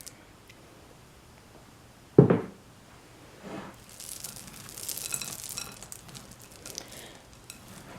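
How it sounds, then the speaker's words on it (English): Candies being stirred into a sticky rice crispy treat mixture with white chocolate, starting with one sudden clatter as they drop in, followed by soft rubbing and scraping as they are folded through, close and quiet. "we're going to add our candies and we're going to incorporate them."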